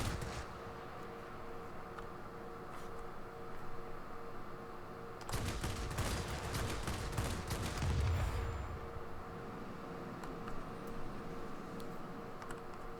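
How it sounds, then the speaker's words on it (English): Aircraft machine guns firing in the World of Warplanes game, a dense rattling burst that swells midway over steady engine drone, then drops back to the background hum. "My guns just didn't overheat instantly."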